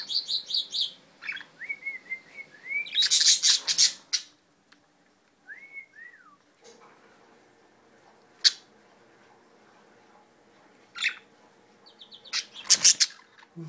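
A pet budgie chirps and whistles indoors in short rising and falling tweets and bursts of chatter, with pauses between phrases and a person's voice speaking softly now and then.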